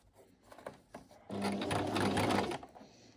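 Sewing machine stitching a zigzag seam in fabric at a dressmaking workshop: a close, even motor whir with rapid needle chatter runs for about a second between soft handling noises, and there is no talking.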